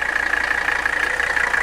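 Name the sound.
Mercedes W123 diesel engine idling with a rattle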